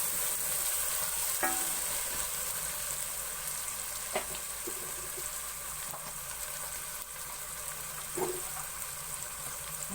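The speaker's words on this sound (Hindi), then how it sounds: "अब टमाटर को भी थोड़ी देर भून लेंगे।" Chopped tomatoes fry in a pan for phali keema, a mince and green bean dish, giving a steady close sizzle with a few sharp stirring clicks scattered through it and no talking.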